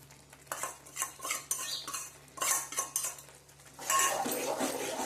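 Ganthiya crumbs being stirred into a puree in a metal pot, with repeated scraping and clinking of a spoon against the pot in several bursts, fairly close, with no talking.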